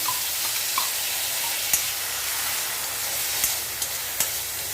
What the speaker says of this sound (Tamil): இப்போது இது பொரியட்டும் லைட்டாக வதங்கி வந்தோடனே